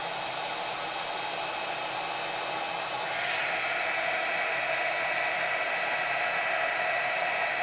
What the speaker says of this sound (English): get my heat tool out and make some noise